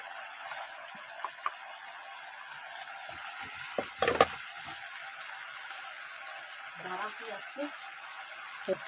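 Masala spice paste frying in hot oil in a home kitchen with pointed gourd: a steady soft sizzle with scattered spoon scrapes and clatter, and a louder stirring burst midway.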